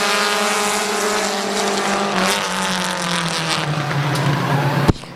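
Compact race cars roaring around Midvale Speedway in an eight-lap heat, several engines droning and rising in pitch together, loud and fairly close, ending with a sharp bang.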